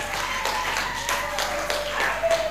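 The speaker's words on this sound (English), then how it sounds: "Please clap for her." An audience at a university convocation applauds a graduate receiving her PhD. The clapping is steady and moderately loud, with individual claps audible.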